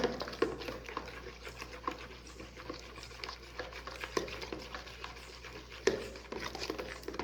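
Pizza dough mixture of water and yeast is stirred again in a bowl before the flour goes in. A utensil scrapes and sloshes in quick, irregular, close strokes with a few sharper knocks, fairly faint and without talk.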